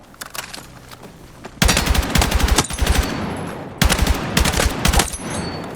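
An M277 rifle in Battlefield 6 fires two loud, rapid bursts of close gunshots, each a quick string of sharp cracks after a quiet start, separated by a short pause.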